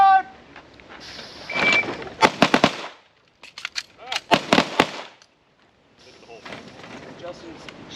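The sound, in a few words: gunshots from shooters in firearms instructor training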